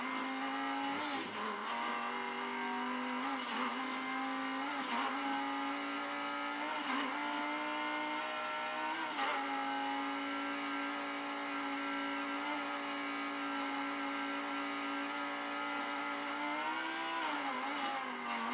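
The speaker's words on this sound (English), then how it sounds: "I actually gained speed while drifting instead of losing speed" A car drifts through turns in the racing game Midnight Club Los Angeles, its engine holding a loud, sustained high-revving drone throughout with brief pitch dips and faint tire noise, no voices.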